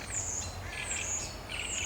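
A reed warbler calls from reeds beside a lake, its bright, buzzy and squawky phrases repeating steadily and fairly close over a low background rumble, with no talking.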